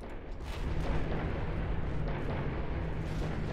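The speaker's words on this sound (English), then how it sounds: "Now, the Hessen is firing with" Battleship Hessen firing standard AP shells in Ultimate Admiral Dreadnoughts, a continuous dense roar of heavy naval gunfire and booming blasts, loud and distant-sounding, without speech.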